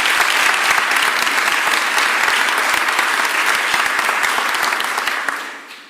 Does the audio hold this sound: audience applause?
yes